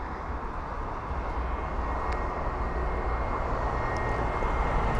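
An airliner on arrival from Muscat, a four-year-old aircraft, descends toward London Heathrow with a broad, steady engine roar that swells slightly as it draws nearer, heard alone without talk.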